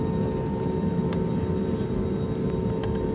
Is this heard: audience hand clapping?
no